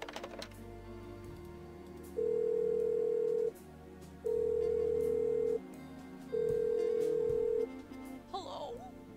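A telephone rings three times in the Blackwell Unbound adventure game, each long electronic ring separated by a pause, loud over a quiet background.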